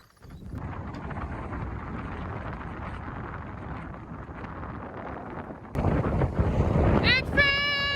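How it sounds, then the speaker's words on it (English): Strong gusty wind buffets the microphone aboard a sailboat, a dense rushing roar that holds steady and grows louder near the end, followed by a few bright clanking tones. "It's super windy."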